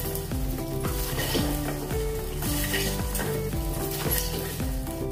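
A poha and semolina mixture frying in a pan, a steady crackling sizzle with occasional stirring scrapes under a background of repeating music.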